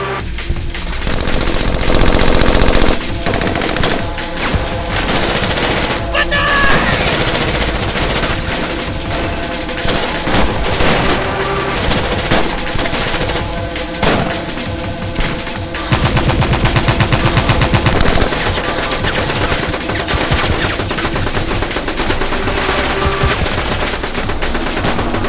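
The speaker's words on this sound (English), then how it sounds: "lay down suppressive fire on that machine gun" Sustained machine gun fire during an ambush, loud bursts of rapid automatic shots running almost continuously through the whole stretch, with heavy gunfire close by and no talk over it.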